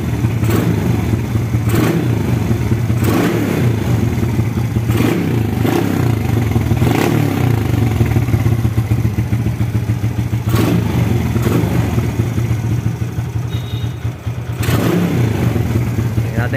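A Suzuki Smash 115 motorcycle engine fitted with a racing CDI idles while warming up, and its throttle is blipped into sharp revs roughly every couple of seconds over a steady, clattering idle, loud and close.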